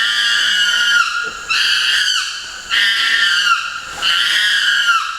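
A baby chimpanzee screams in the forest, close by, in three or four long piercing shrieks separated by brief gasping breaks.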